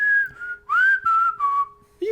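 A person whistles a short, clear melodic phrase in a Walking Dead scene, four sustained notes with brief gaps, close and alone apart from a faint steady tone beneath.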